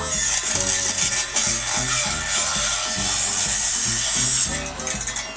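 A mini drill machine tool cutting copper alloy gives a loud, continuous high grinding hiss over a pulsing motor drone, close and steady throughout, easing near the end.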